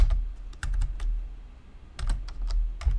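Password typed on a computer keyboard, several quick clusters of sharp close key clicks separated by brief pauses, over a low steady hum with no voices.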